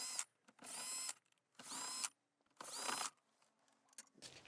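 A power drill spins out four 10mm bolts in a 2020-or-later Toyota 4Runner: three loud whirring bursts of about a second each, close up, separated by brief pauses, followed by a quieter ratcheting tail.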